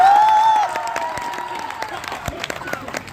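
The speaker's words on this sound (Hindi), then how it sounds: "आप लोग ताली बजाइए तब हम आगे" Audience at a Hindi comic poetry gathering (kavi sammelan) in Shamshabad clapping; scattered, uneven claps follow a brief fading tone and continue throughout.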